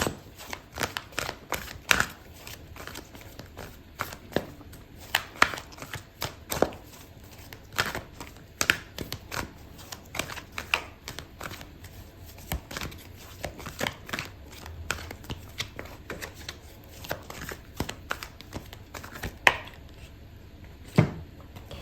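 Tarot cards are shuffled close up in a steady series of crisp riffling and tapping bursts, some louder than others, with no talking.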